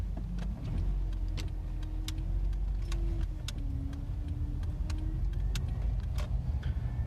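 A car drives through empty San Francisco city streets during the 2020 lockdown, its steady engine and road rumble continuous and close, with faint clicks and small rattles over the low drone.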